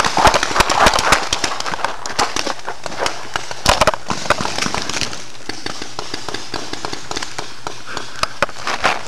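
Gunfire in the video game Battlefield 2, sharp loud cracks and bursts that come in irregular clusters, densest at the start, over a constant background of game noise.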